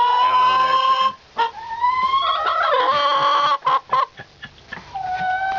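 Several chickens cluck and squawk inside a chicken house, loud and close, with busy overlapping calls and brief pauses between bursts.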